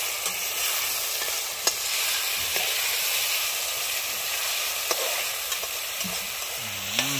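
Fish sautéing in a hot pot while being stirred, steady loud sizzling hiss with occasional scraping knocks of the spoon, close up, no talking.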